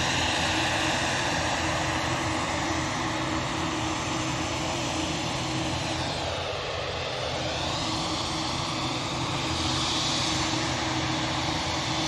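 A Loganair aircraft arriving from Aberdeen at Manchester Airport, a sustained loud engine roar with a shifting whine that dips and swells as it passes, without speech.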